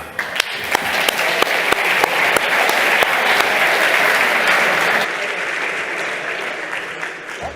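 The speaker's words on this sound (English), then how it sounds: "Let's give a round of applause for MLH, please." Audience applause for hackathon sponsor MLH at the HackUPC 2025 closing ceremony, a dense crowd clapping steadily with a few sharp individual claps on top, easing slightly in the final stretch.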